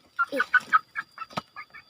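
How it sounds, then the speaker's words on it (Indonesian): A chicken clucking up close, a quick run of several short clucks followed by a few fainter ones in an otherwise quiet setting. "Ayamnya berdarah Tip."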